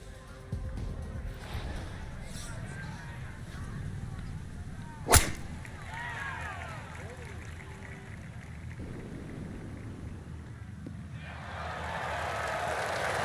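A golf club drive in a PGA Tour video game at the FedEx St. Jude Championship gives one sharp, loud whoosh-crack partway through, set against steady crowd and ambient noise with faint commentary.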